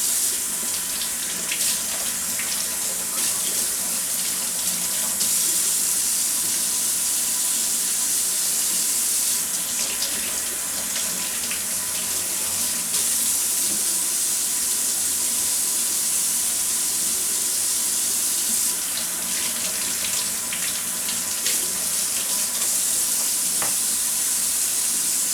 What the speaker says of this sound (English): now I'm going to rinse these celery stalks really good individually so that a lot of the dirt comes off